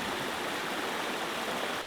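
Stream flowing through banana plantations in Cateel, Davao, Philippines, a close, steady rushing babble that eases slightly at the very end.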